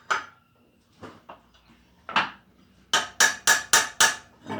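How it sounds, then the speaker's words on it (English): A metal wrench is tapped against a radiator fan clutch nut, giving sharp metallic clanks: a few scattered hits, then a quick run of five evenly spaced strikes close by. "I'll put my wrench on there and tap it that way to take the fan on."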